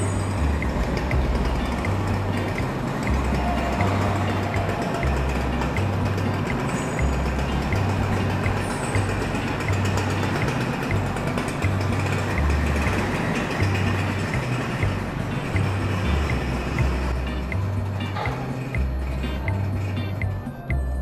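The Dharma passenger ship carries riders and their Vespa scooters across the sea to Java, its engines giving off a steady, loud, pulsing low drone with a constant throb for over twenty seconds, no voices.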